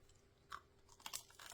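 Crunchy crust of homemade focaccia bread being chewed close up, a few crisp bites and crackly crunches, quiet and irregular, with no talking.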